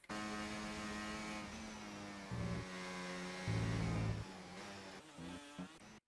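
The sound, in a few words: F1 car engine audio in video game F1 24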